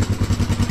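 A Honda XR200 motorcycle engine runs with the choke on, a loud, close, rhythmic lumpy idle pulsing several times in under a second.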